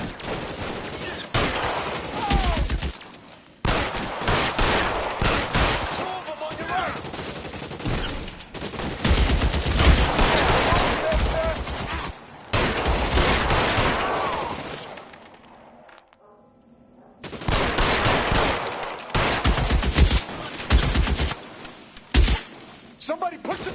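Gunfire in a shootout from the video game L.A. Noire, with dense, loud bursts of shots and shattering glass in repeated volleys, broken by a short lull, as voices shout over the firing.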